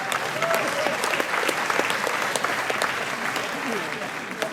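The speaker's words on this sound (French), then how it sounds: "Vous pouvez applaudir, vous pouvez applaudir la FNAC." A crowd applauding steadily, sharp claps blending into a dense patter, with a few voices mixed in.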